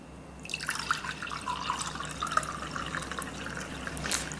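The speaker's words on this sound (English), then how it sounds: "I'm just going to pour it straight into my mug." Ginger tea poured from a pot into a mug, a steady close trickle and splash of liquid that starts abruptly and runs throughout, with no talking.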